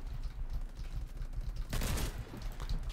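A shotgun fires in the first-person shooter Warface, giving a rapid rattle of muffled shots, with one louder sharp blast near the middle, all heard close with no talking.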